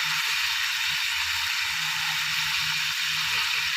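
Bean sprouts stir-fried with minced pork and onion, a steady sizzling hiss with soft scraping and tossing sounds from the pan, continuous and fairly close.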